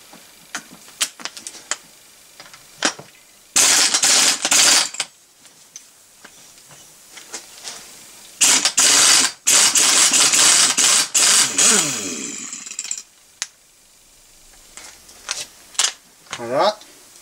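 A socket wrench with a 17 mm socket loosens pinion nuts on a 50cc engine, giving close ratcheting clicks and bursts of rapid metallic rasping between quieter workshop moments.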